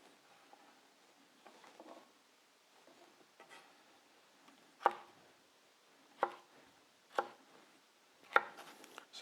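A knife slicing vegetables on a cutting board for caponata at slanted cuts, soft scraping followed by four or five distinct, evenly spaced chops, fairly quiet and close, with no speech.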